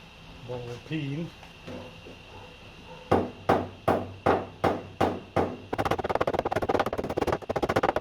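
A ball peen hammer strikes a car boot lid on a Ford Escort II, giving six sharp metallic blows at an even rhythm followed by a rapid burst of quicker taps, close up; a voice is heard briefly at the start.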